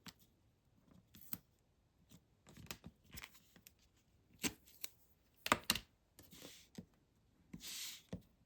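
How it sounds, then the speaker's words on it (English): Scissors snip through paper along folded lines for a Halloween mini album, with irregular close crisp cuts and rustling handling of the paper between them. "I'm just cutting on the folds"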